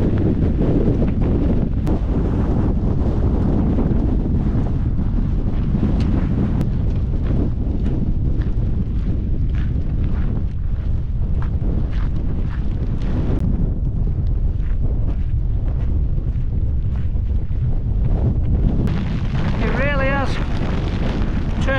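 Strong wind roars across the microphone on a Cairngorms mountain hike, a loud, constant buffeting rush that fills the whole stretch, with a brief higher whistling gust near the end.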